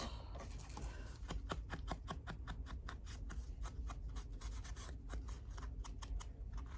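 Scissors cut through paper during a journal craft session, a quick series of close, crisp snipping strokes that keeps a fairly regular rhythm, faint but clear, with no talking.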